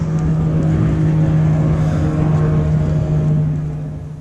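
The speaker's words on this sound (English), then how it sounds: "You could hear in the distance, sounds like somebody coming by on a boat." A steady boat engine drone hums in the distance on a swampy lake, holding a low constant pitch before slowly fading out as the boat motors past.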